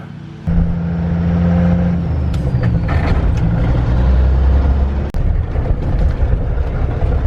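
A truck engine kicks in after a brief quiet moment and settles into a loud, steady rumble while driving, with a short sharp click or hiss midway.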